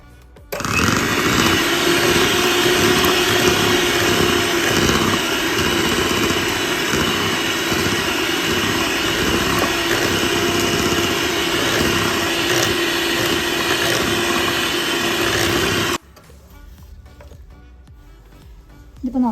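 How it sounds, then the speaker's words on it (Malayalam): An electric mixer beats cake batter for an orange dates cake after a quarter cup of orange juice goes in. The whirring is loud and steady for about fifteen seconds, then cuts off abruptly into quiet. "ഇനി ഇതിലോട്ട് നമ്മുടെ ഓറഞ്ച് ജ്യൂസ് ഒരു കാൽ കപ്പ് ഒഴിച്ച് ഒന്നുകൂടെ ഒന്ന് ബീറ്റ് ചെയ്യാം."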